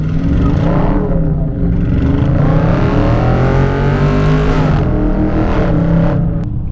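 Dodge Charger Scatpack accelerating and drifting through a turn, a loud, close V8 roaring as it climbs and falls in pitch, with harmonic engine tones sweeping and brief tire noise, and no talking.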